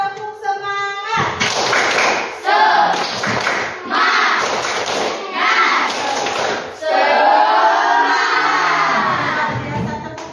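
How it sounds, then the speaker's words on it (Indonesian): A group of people at a school teachers' association event clapping a rhythmic spirit-clap pattern in loud, repeated bursts, with crowd voices and cheering between claps. "Nah, tepuk semangat."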